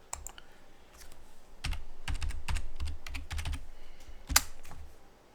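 A password is typed on a computer keyboard as quick bursts of crisp key clicks, close and clear, with short pauses between runs of keystrokes and no talk.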